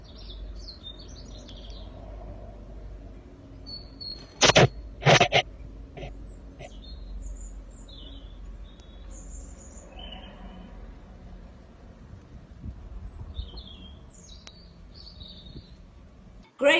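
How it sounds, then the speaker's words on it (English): Birds singing in a film soundtrack: scattered high chirps and short tweeting phrases over a quiet outdoor hum, with a pair of louder sharp bursts near the start and sparse calls continuing faintly afterward. "Good colour, good bird song."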